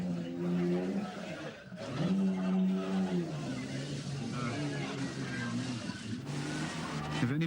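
A Jeep's engine revs and strains while stuck in a bog on a 1984 cross-country club course, rising and falling in pitch over a steady roar, with a commentator talking over it.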